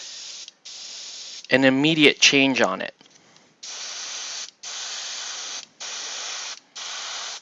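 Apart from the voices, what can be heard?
spray paint being sprayed onto a Star Wars clone figure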